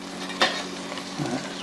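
Chicken thighs sizzle in an air fryer basket as they are turned over, a steady close frying hiss broken by a sharp scrape of the tongs on the metal basket and a softer clatter later.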